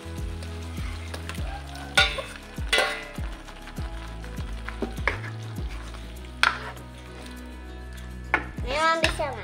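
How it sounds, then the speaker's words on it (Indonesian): Shark meat stir-fried in fragrant spices in a pan, a steady sizzle under repeated scraping and clattering of a utensil, with several louder bumps of stirring. "Nah, ini sudah harum, kita masukkan ikan hiunya."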